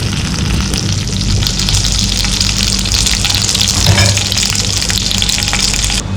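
Mustard seeds spluttering in hot oil, a dense, loud, continuous sizzle with crackling pops, close up and without any talking.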